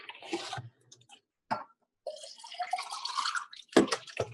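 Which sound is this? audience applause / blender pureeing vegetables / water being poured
water being poured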